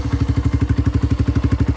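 A Yamaha YS125 motorcycle engine, already warm, running at a steady, even idle with a rapid regular pulsing thump, close up and loud, with no voices over it.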